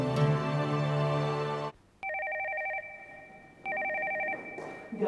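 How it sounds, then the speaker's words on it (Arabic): A telephone rings in two separate bursts of repeated electronic trills. The bursts come after music stops abruptly, with quiet room tone between them. "بسرعة بسرعة رد على التليفون"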